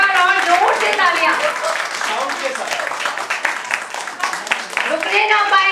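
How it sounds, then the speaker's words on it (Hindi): A crowd at a book launch and world record celebration claps loudly and steadily for several seconds while someone talks over the noise. "एक बार और जोर से तालियां."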